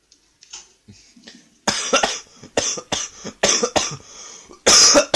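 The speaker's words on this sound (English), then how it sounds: "Oh, I keep coughing, sorry." A person coughs repeatedly, starting with faint throat sounds and building into a series of loud, harsh coughs close to the listener.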